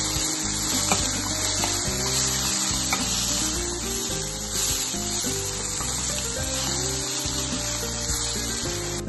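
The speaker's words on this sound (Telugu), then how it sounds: "పచ్చివాసన పోయే వరకు వేయించేసుకోవాలి." Ginger garlic masala frying in hot oil, a steady close sizzle that holds loud and even throughout with no voices over it.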